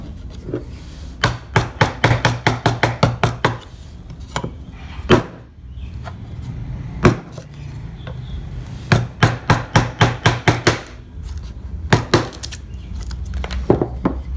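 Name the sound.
carving wood with a flat gouge chisel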